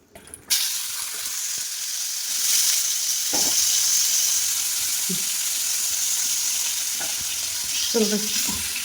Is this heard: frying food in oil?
yes